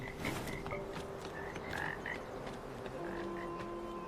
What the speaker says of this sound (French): J'entends des grenouilles